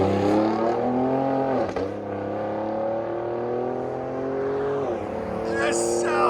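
A 2019 Ford Raptor with a 3.5L twin-turbo EcoBoost V6, Borla Attack exhaust and X-pipe revs loudly up close, rising and falling with sharp throttle blips and a deep exhaust growl.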